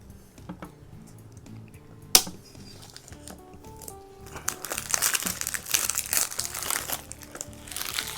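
Cellophane wrap being peeled and crinkled off a Nintendo Switch 2 game box, close up. Faint tapping comes first, then a sharp snap, then sustained loud crackling.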